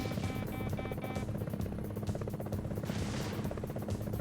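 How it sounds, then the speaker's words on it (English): Enemy helicopter in a PS1 combat flight game, its steady rotor drone running continuously alongside dense game effects and bursts of gunfire throughout. "Incoming left. Enemy chopper."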